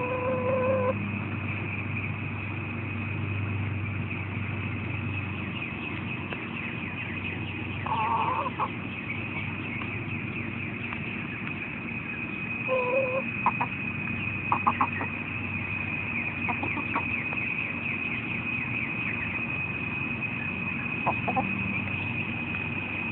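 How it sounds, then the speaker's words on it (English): A chicken clucking in short scattered bursts over a steady background hum, the clucks fairly faint and spread across the recording. "a chicken."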